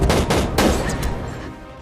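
A sharp sniper rifle shot rings out in a Jack Reacher action film scene, one loud crack followed by a second burst and a fading echo, with no talking.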